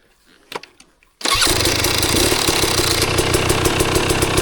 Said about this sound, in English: do you want to start your bike?